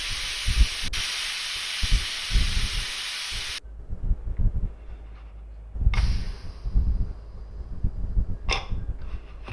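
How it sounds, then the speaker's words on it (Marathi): A pressure cooker on a kitchen stove lets out a loud, steady hiss of escaping steam that cuts off sharply after a few seconds, followed by lower rumbles, a brief second burst and a short sharp release near the end. "इथे कुकरच्या मी तीन शिट्ट्या काढून घेते"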